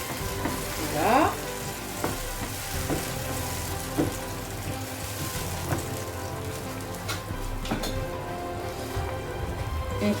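Onion and four grated tomatoes fry in a pan for a potato, aubergine and courgette gratin, a dense continuous sizzle with occasional stirring clicks throughout, close and fairly loud, no voices.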